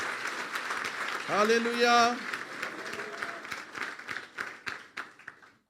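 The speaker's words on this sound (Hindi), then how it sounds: "फिर तालियां बजा दें यीशु के लिए।" Congregation at a Hindi-language church sermon breaks into brief applause amid shouts and a voice calling out, with scattered claps and chatter continuing under the voices.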